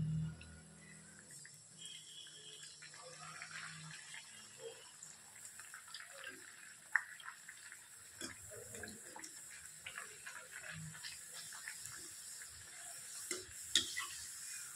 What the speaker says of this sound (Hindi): अब हम इस तरह से घी में ये पूड़ी तल लेंगे